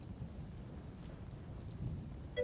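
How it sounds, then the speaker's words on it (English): Rain and distant thunder in the video game Elder Scrolls Online, a steady low rumbling wash of rainfall, faint and continuous with no voices. "I think it's about to rain here. Like raining in ESO and raining outside."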